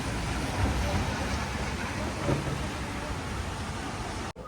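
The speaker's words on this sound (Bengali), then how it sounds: "এই যে কি পরিমাণ বৃষ্টি হচ্ছে এখন বৃষ্টিও শুরু হয়ে গেছে" Heavy rain pours down in a dense, steady roar that fills the scene closely, without pause, until it cuts off abruptly at the end.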